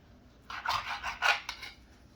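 A knife trims meat into small pieces for soup, giving a quiet run of short rasping, scraping strokes close by, roughly five quick cuts in just over a second, with near silence on either side.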